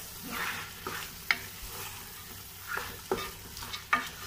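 Cooked beef being mixed into masala in a pan for Kozhikode-style biryani: several scraping, clanking stirs of a spoon against the pan over a soft continuous sizzle, close up and without speech.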